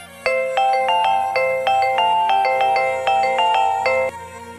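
A phone ringtone plays a quick repeating electronic melody of bright tones, loud and close, with no voices, cutting off after about four seconds.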